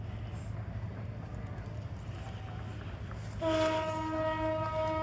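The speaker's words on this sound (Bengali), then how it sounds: "এই যে ট্রেন যাওয়ার একটা আওয়াজ শোনা যাচ্ছে, যেহেতু পাশেই ট্রেন রয়েছে।" A low steady rumble of a passing train, then a loud sustained horn blares near the end, with faint voices in the background.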